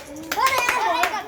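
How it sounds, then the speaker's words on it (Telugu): Children clap their hands in a classroom during an arithmetic counting activity, a short burst of claps mixed with overlapping young voices. "క్లాప్స్ కొట్టండి"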